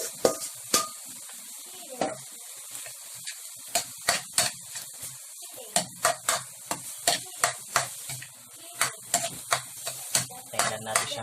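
Fried rice with diced carrots and canned beef loaf cooks in a pan, a steady low sizzle broken by sharp clicks and scrapes of a utensil stirring against the metal, close and repeated throughout.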